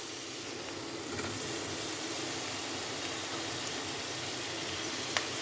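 Ginger garlic paste sautés in a pan for a kidney bean kurma, giving a steady, even sizzle and hiss with a faint clink near the end and no voices.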